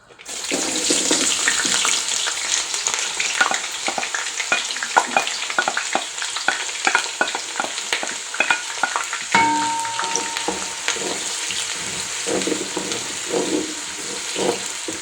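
Four normal-size onions fry for beef pilau, sizzling loudly and steadily in a pot while a spoon stirs them with repeated scraping clinks, no voices.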